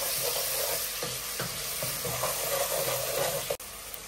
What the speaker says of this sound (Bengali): পেঁয়াজ কুচি, তেজপাতা, জিরা ফোড়ন দিয়ে দিচ্ছি। এটা এখন ভাজা ভাজা হইলে মাংসটা দিব